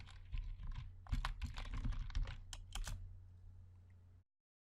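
Computer keyboard typing, a quick run of close key clicks with a faint hum underneath, ending abruptly in silence, no voices.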